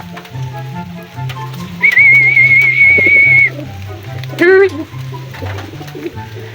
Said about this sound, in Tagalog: So dumating yung kalapati na checkered na hen,